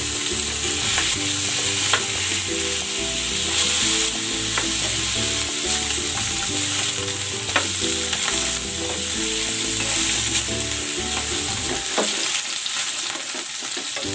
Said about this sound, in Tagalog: next, isi-sear ko naman itong liempo